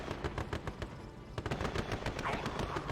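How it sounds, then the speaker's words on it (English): Units in the real-time strategy game Mental Omega open fire on an oil derrick, a dense, rapid rattle of machine-gun bursts and overlapping shots going on without pause, fairly loud and close throughout. "he immediately starts shooting up the oil derrick"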